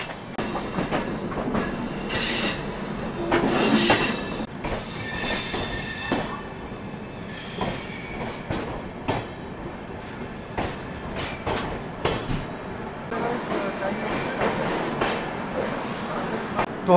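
Sealdah Bikaner Duronto Express pulling into Dhanbad station, a loud rolling clatter of wheels over rail joints with metallic squeals and clanks, heard close from near the carriage door.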